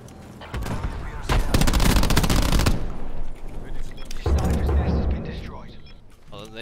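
Bursts of rapid automatic machine gun fire, loud and rattling in two long volleys with a brief pause between, while people talk nearby.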